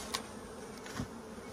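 Honey bees buzzing around a healthy, calm colony at the hive, a steady close drone with a brief louder pass near the start.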